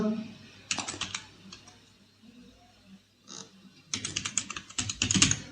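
Bursts of quick keystrokes on a computer keyboard while entering accounting data in Tally, close and crisp, separated by a quiet pause, with brief speech-like sounds between.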